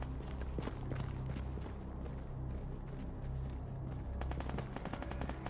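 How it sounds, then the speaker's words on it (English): Gunfire echoes from a distance in the video game Stalker GAMMA, seemingly from beyond a tunnel, as scattered bursts of rapid shots over a dense, rumbling background. "I hear more gunfire."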